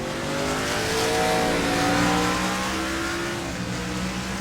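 NASCAR race car in the iRacing simulator at Okayama, engine roaring loudly with rising and falling pitch and a smeared tire skid mixed in, continuous and close for several seconds.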